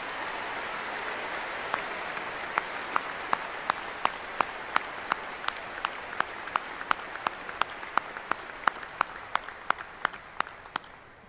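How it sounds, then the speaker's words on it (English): Broad audience applause at a high school commencement for the senior band and choir, a steady wash of clapping with a distinct, evenly timed rhythmic clap cutting through, slowly fading toward the end. "how about one more round of applause for the finest music program in the state of Minnesota?"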